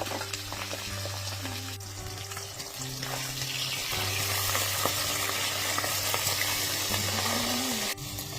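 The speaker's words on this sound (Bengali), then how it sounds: "মাছগুলো এবার ভেজে নেব" Pabda fish frying in mustard oil with a green chilli in a wok, giving a loud, continuous close sizzle and crackle with a low steady hum underneath and a few soft clatters.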